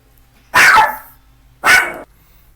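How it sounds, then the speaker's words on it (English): A pet dog barks indoors at home, two loud separate barks about a second apart against a quiet background, with no talking. "You get your dog barking at your son that comes through the door."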